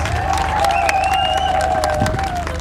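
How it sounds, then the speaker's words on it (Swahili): A crowd applauds and cheers for the President at a ceremony opening an X-ray building, a steady wash of clapping at moderate distance with a sustained tonal hum running through it. "Makofi mengi sana kwa Mheshimiwa Rais."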